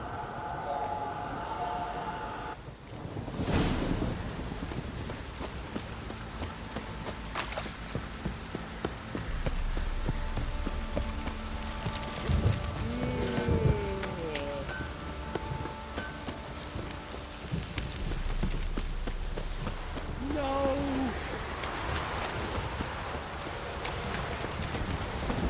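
Steady rain in the video game The Witcher 3 patters continuously on surfaces throughout, a constant wash of noise with occasional faint thuds and tones layered on top.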